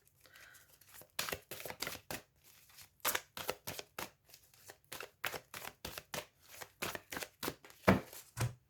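Oracle cards being shuffled by hand in a quiet room, a steady run of crisp, papery riffles and flicks in quick bursts, close and fairly soft, with no talking.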